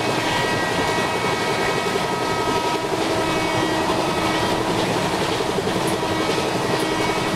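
An ICF train in Indian Train Simulator running on the Kolkata–Mumbai Kurla Express route, giving a steady, loud mechanical drone and rumble with faint rhythmic clatter, continuous with no break.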